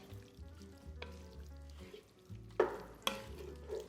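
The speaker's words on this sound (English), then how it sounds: "We'll cook off that alcohol for a few minutes and just allow the wine to really flavor the meat up." Ground meat cooking off white wine in a pan for an Italian meat sauce gives a steady low sizzle, broken by a few sharp utensil scrapes and knocks near the end.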